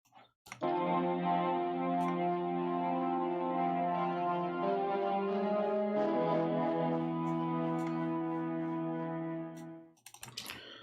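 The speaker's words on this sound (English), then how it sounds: "The main sound from this guitar comes from the roar. There's just some distortion with some comb filtering on it." A distorted guitar preset with comb filtering in Ableton plays a sustained, buzzing, harmonically rich chord that shifts once midway, loud and steady, then cuts off into a few clicks.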